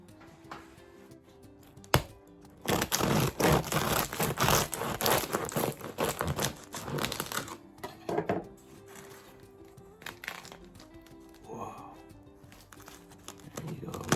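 A knife sawing through the crackly crust of a freshly baked sourdough loaf, a loud sustained crunching rasp of strokes lasting several seconds, then quieter crumbs and crinkles, close up.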